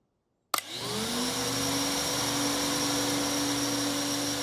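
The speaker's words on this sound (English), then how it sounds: "Now you can use the vacuum cleaner." A vacuum cleaner switches on abruptly after a moment of silence and then runs with a loud, steady whine and hum that holds constant, heard alone.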